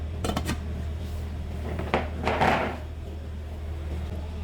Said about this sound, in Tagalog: At ilagay din natin ang takip.